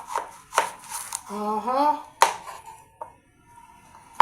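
A knife chops crushed black pepper on a board in a series of sharp, close, uneven strikes with brief pauses between them, while a voice speaks in the middle.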